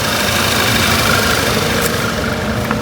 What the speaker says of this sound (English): Motor is running. I don't know if you can hear it or not. It's so damn quiet, but it is running.